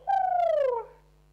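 A single voice imitates a dove with one smooth, falling coo, close and clear, lasting under a second and fading out.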